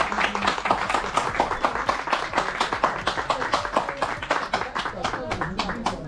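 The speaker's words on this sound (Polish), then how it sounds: "Oklaskom i gratulacjom nie było końca." A small group claps at a cycling podium ceremony after a 500 km race in Polesie, with uneven, close hand claps running steadily throughout and voices chattering underneath.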